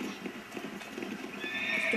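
In the Red Dead Redemption video game, a horse whinnies while its hooves clip-clop during a cattle drive; quick, close hoofbeats run under a rising, drawn-out neigh that swells toward the end.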